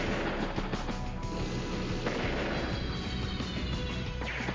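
A bomb drop in Advance Wars: Days of Ruin lands as a loud, dense crashing, rumbling impact that fills the whole stretch, with a steady battering roar and no talk over it.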